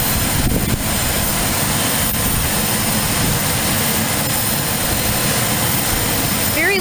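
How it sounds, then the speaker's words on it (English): Airplane engine running loudly at Aurora Municipal Airport, a dense, steady roar filling the whole clip close by, with no clear talking over it. "Very loud compared to my flight instructor's little airplane."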